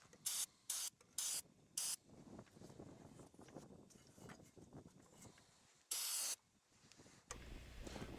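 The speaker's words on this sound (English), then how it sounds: "I think most of this ash will come off with a cleaning solvent" Cleaning solvent sprays in short hissing bursts onto the ash-covered top end of a chipper/shredder engine, four quick close squirts followed by quieter dripping and a longer spray, then a faint mechanical rattle.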